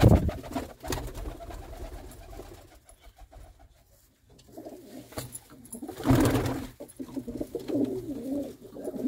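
Pedigree pigeons kept by a fancier coo in low repeated murmurs, close by, with rustling and a few louder bumps between calls.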